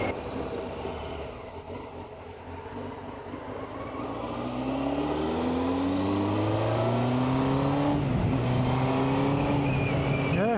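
A 1990 Honda CBR600F motorcycle engine revs up repeatedly, pitch climbing and dropping in sweeping waves, growing louder and holding a steady roar through the second half.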